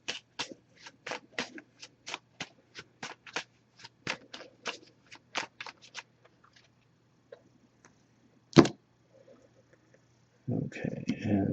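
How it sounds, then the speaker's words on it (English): A deck of oracle cards shuffled repeatedly in quick, crisp bursts, followed by a single louder slap and then some soft rustling and handling noise. "I'm just going to give this a few shuffles."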